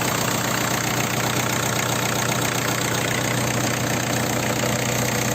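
A Ford Escort 1.8 diesel idles after a cylinder head and timing belt replacement, giving a steady, even clattering drone at close range throughout with no talking.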